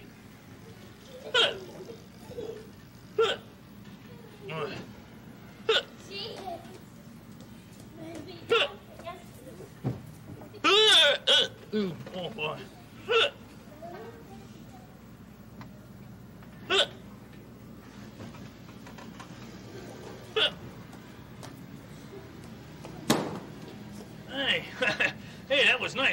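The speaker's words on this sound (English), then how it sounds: "And stop these hiccups." Repeated hiccups from a character on the Sesame Street TV show, sharp short voiced jolts recurring every few seconds, with speaking between them.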